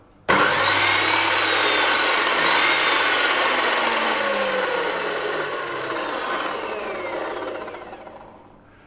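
A metal chop saw on a work cart starts abruptly and runs at full speed as a loud, whining motor roar, then slowly winds down as its pitch falls and fades near the end. A single brief spoken word comes near the start.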